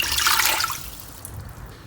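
Water pours into a pressure cooker's inner pot in a short splashing rush that fades within a second, followed by quiet dribbling, close and fairly loud with no talking.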